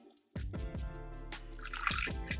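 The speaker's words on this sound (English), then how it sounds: "I'm just gonna add in enough water to maybe fill in half a jug" Spring water is poured from a bottle into a jug at home, making a steady splashing, gurgling stream that starts abruptly and fills for about two seconds, close by with no talking.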